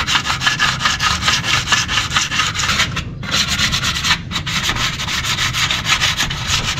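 Steady back-and-forth sanding by hand on the metal mating surface of a Toyota Vios oil pan, a close, continuous rasping rub with two brief pauses, preparing the surface for gasket maker.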